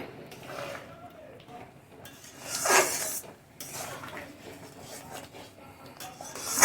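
Ground spices stirred into mango pickle in a pan, a rough scraping and rubbing with a louder burst of stirring near the middle, close by, with no talk.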